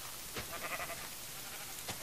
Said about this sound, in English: So you kill a sheep.